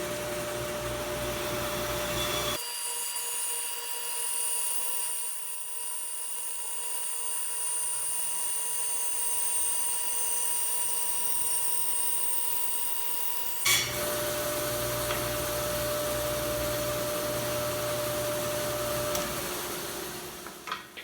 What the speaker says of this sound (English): it's very important that the board itself is parallel to the blade as I make the cut